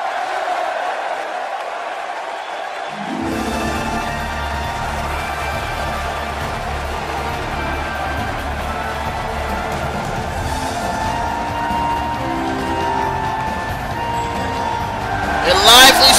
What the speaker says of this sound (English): Sold out crowd here, giving a grand reception to Earthbound's very own Ness